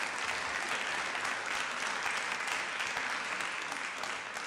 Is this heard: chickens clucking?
no